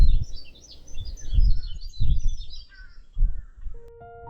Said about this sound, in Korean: 밤새 울던 풀벌레 소리가 새들의 지저귀음으로 바뀌는 순간